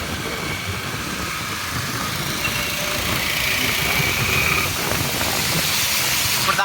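Motorbike ridden through heavy rain on flooded streets, a steady engine hum under a wash of hissing rain and spray, continuous and moderately loud.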